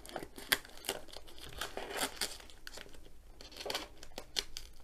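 A sealed grey plastic bag is cut and torn open, giving close, crisp bursts of crinkling and tearing plastic that come in irregular clusters over nearly five seconds, with no talking.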